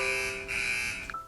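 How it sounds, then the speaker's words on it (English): A car wash alarm signal on a residential street, a loud steady electronic buzzing tone that holds for about a second, then cuts off and changes to a shorter beep. "If you can hear car wash alarm signals"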